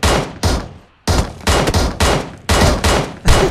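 Heavy automatic gunfire from a sniper-mode shooter game, loud, dense bursts of rapid shots separated by short pauses, with no talk over it.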